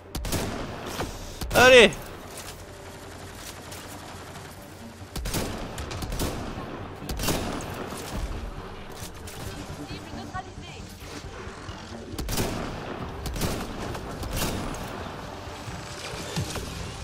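Bursts of gunfire crack out in Mass Effect: Andromeda during a fight with Remnant enemies, with repeated sharp volleys spaced across the stretch, one loud burst early on, and a voice speaking between them.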